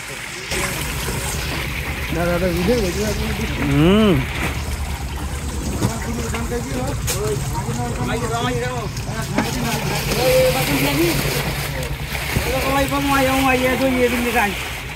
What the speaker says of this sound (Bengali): আমাদের পাশে আরও অনেক ট্রলার এসেছে মাছ নিয়ে